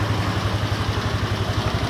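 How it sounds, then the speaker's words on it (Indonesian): A Suzuki Skywave scooter engine, one that had stalled with lost ignition, idles steadily up close, its low rapid pulsing beat running evenly throughout with no talk over it. "Sekarang kita hidupkan dulu motornya."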